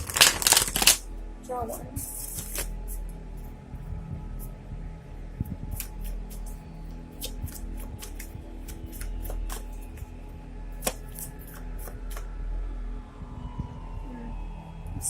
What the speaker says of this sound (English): I want to shuffle these cards first before I